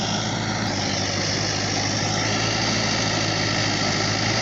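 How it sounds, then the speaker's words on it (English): A tractor engine runs steadily in a rice field being prepared for transplanting, a continuous close, loud idling rumble with a constant mechanical drone and no voices throughout. "As you can see, the tractor is happening."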